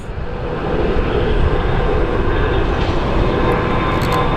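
A CRJ regional jet at Sky Harbor airport gives a loud, steady broadband roar that swells slightly in the first second and then holds constant, heard alone.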